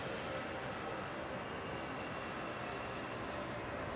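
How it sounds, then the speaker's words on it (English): An Airbus A320 coming in to land at Melbourne Airport, fairly close, makes a steady, even broadband engine roar that stays soft and constant throughout. "there's a 320 fairly close behind coming in"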